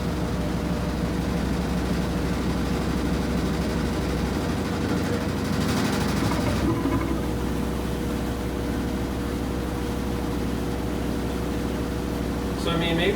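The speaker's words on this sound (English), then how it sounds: "And high spin, this is going to be maximum speed spin. So it's a little louder, you can tell it's shaking a little bit." A Whirlpool WTW5000DW top-load washing machine runs its spin cycle at maximum speed, giving a steady loud whirring drone with a shaking rattle. A person talks over it.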